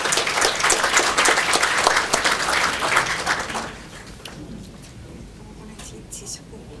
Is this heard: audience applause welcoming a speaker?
yes